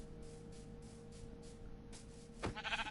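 A Minecraft sheep gives a short bleat near the end over a quiet, steady game background, with no talking.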